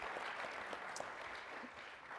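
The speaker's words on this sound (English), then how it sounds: "Round of applause. Really." Soft, distant applause from a panel audience at a Florida leadership event, a faint even patter of clapping heard from afar.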